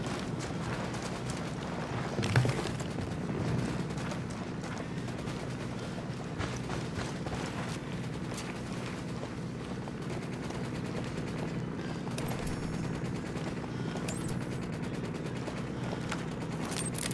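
Scattered gunfire and distant volleys in the video game Ghost Recon Wildlands ring out over a constant windy outdoor rumble, with a few sharper shots standing out.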